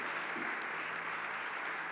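A church congregation applauds during a service, a steady, dense wash of clapping from many hands filling the room without a break.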